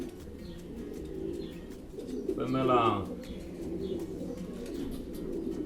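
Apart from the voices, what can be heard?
racing pigeons cooing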